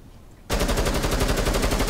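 Rapid automatic gunfire erupts abruptly in a video game and keeps going as a loud, continuous rattling burst of closely spaced shots.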